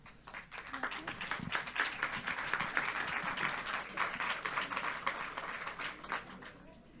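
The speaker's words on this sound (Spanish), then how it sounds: "Le damos un aplauso." An auditorium audience breaks into steady applause, dense clapping that swells and holds for several seconds before tapering off at the end.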